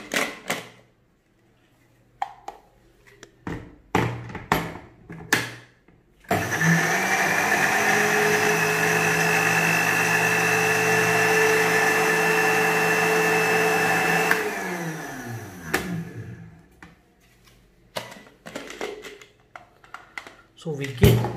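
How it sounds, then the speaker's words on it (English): An electric blender grinds two slices of ginger with cumin seed in a loud, steady whir lasting several seconds. Short clanks and knocks of kitchen handling come before and after it, and a person talks between them. "So these 2 slices of ginger, we're going to blend it together with the cumin seed"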